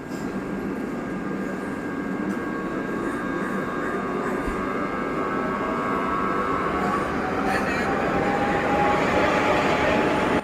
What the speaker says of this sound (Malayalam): നമ്മുടെ ഈ ട്രെയിനിൻ്റെ എൻജിനൊക്കെ ഇത് ഓണാക്കിയിട്ടുണ്ട്.